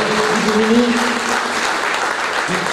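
Loud, sustained applause from a crowd at a political gathering in honour of Tania Diolle, with shouting voices rising over the dense clapping.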